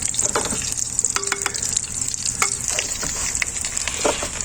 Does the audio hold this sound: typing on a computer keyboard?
no